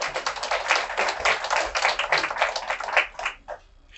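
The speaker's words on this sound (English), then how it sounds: "So give yourself a pat on the back and applause" Audience applause at a county candidate forum, a dense patter of many hands clapping steadily, moderately close, then thinning out and fading near the end.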